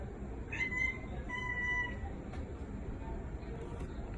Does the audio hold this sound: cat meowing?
yes